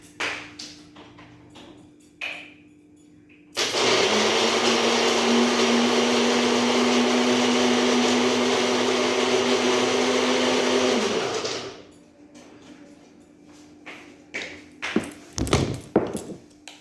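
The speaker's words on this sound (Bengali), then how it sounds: "এই কাজু আর কিশমিশ আমি মিক্সিতে এগুলো দুটোকে গ্রেট করে নেব" A kitchen mixer grinder whirs loudly and steadily for about eight seconds as it grinds cashews, raisins and curd, then cuts off, with quieter clinks and taps before and after.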